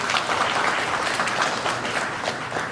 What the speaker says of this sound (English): Let's give a round of applause to Group 1.